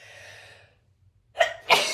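Two sharp sneezes burst out close by during a nasal cleansing kriya with water, following a faint breathy hum and a short silence.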